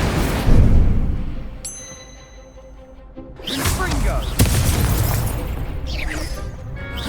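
Incendio fire spells cast in the Hogwarts Legacy video game, heard as whooshing fiery bursts and booming impacts with a bright magical chime, close and loud, with a spoken voice and game sounds around them.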